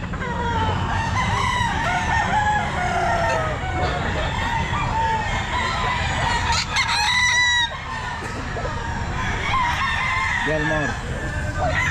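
A stag rooster crows and clucks at a busy Grotto pet market among other fowl, with vendors talking and crowd noise throughout; a sharp crow rises briefly near the middle.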